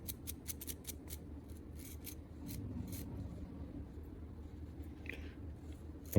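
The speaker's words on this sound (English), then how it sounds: "I just use an old wire brush. And I just make sure there's nothing in the teeth of the gear." An old wire brush scrubbing the gear teeth of a 3D printer extruder: a quiet, close series of quick bristly scratching strokes, bunched at the start and thinning out, with faint handling noise and a brief sharper sound near the end.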